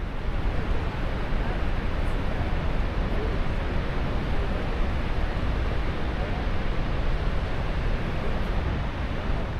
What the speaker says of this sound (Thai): พอสัมผัสได้ถึงเสียงที่กึกก้องและความแรงของน้ำรวมถึงความยิ่งใหญ่ของน้ำตกในแองการ่า